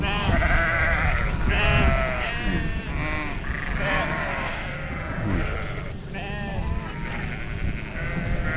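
A flock of sheep bleats repeatedly and overlapping, close by, over a constant low rumble of wind or engine.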